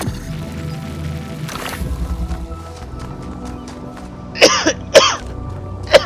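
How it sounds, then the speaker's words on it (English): A person coughs twice near the end, two sharp close bursts a moment apart, following a stretch of low murmuring and background game sound. "Oh God, I hate coughing,"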